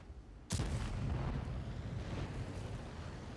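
One heavy tank cannon blast in World of Tanks bursts out abruptly, followed by a deep sustained rumble and hiss that barely fades over the next few seconds.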